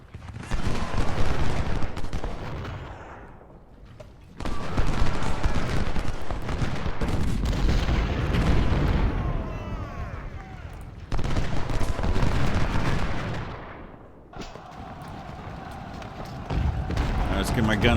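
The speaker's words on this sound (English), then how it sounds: "Let's get my guns firing again." Dense crackling gunfire and musket volleys from a Civil War battle at Chickamauga in a strategy video game, sounding in loud sustained bursts with brief lulls, under a constant bed of battle noise.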